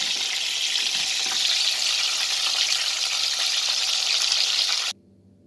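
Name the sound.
chicken frying in oil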